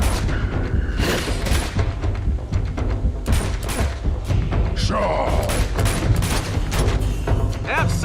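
Sustained video-game gunfire in Uncharted 2, rapid bursts and booming thuds packed close together for the full stretch, loud and dense with mechanical clatter, while a voice briefly calls out over the shooting.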